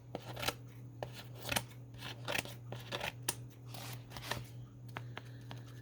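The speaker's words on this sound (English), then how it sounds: "But I'll trim this, make sure it's all trimmed down." Scissors trim tissue paper for a junk journal background, giving a run of soft, crisp snips and paper rustles at an irregular pace over a steady low hum.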